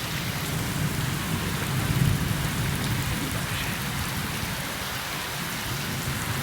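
Heavy rain roars steadily close by as low thunder rumbles through the downpour, swelling briefly before settling back beneath the constant hiss of the storm.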